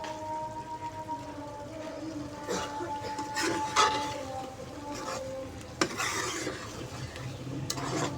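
Spiced chicken and potato being mixed with crushed coriander and garam masala, a steady wet stirring and scraping in a pot with a few louder clanks, continuous and close.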